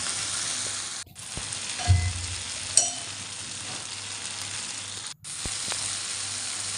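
Tomatoes and onions sauté in a pan for a medicinal pepper-cumin kuzhambu, giving a steady close sizzle with a couple of brief stirring knocks and two short dropouts, and no voices.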